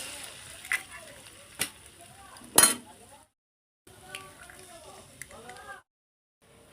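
An egg is tapped and cracked into vegetables frying in a pan, with a few sharp clinks over a faint sizzle while someone talks, then brief pauses of near silence.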